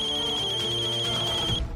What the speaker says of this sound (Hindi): बार बार फोन को बजता देख